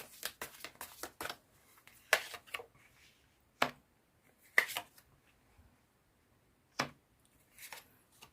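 Tarot cards flicked and shuffled in quick riffling bursts, then separate soft slaps and snaps as cards are drawn and laid down, close and fairly quiet with pauses between.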